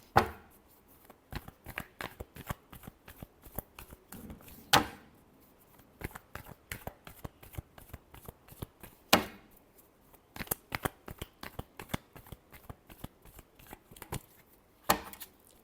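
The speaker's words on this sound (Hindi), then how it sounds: "Last shuffle." Close, crisp riffling and snapping of tarot cards being shuffled, with many quick rapid clicks, a few louder slaps between them and short gaps.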